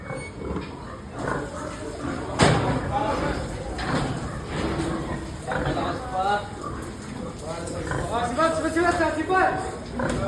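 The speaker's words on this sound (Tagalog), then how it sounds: "Oh, mga baboy natin, oh." Pigs in a farm pen grunt and squeal, mixed into steady background noise while people talk over them throughout.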